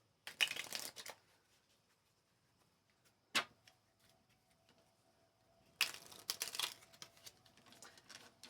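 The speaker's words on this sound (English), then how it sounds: "I need to get myself a little tablecloth so it's not so loud when I'm shuffling." Tarot cards are shuffled on a bare, hard tabletop in three quick riffling bursts, the first and last lasting about a second each and a short snap in between, with quiet pauses around them.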